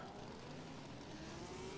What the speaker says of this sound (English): I can hear a Porsche or a Ferrari very much exploring its higher rev range now